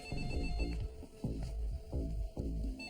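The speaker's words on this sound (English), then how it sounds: "Pick up the phone." A telephone rings loudly and nearby in repeated electronic trills, a steady rhythmic ring that fills the whole stretch with no voices.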